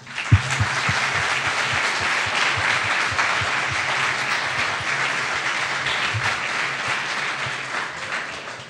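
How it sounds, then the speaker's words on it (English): Sustained round of applause from a lecture audience, thick even clapping that holds strong throughout and tapers only slightly at the very end. "One more round of applause, please."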